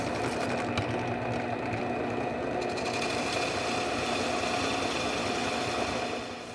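A spade bit drills into stainless steel with a steady, loud, buzzing mechanical whir that runs unbroken and eases off at the very end, with no talking.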